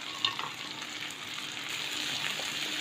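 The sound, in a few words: tomatoes and cashews sautéing in a pan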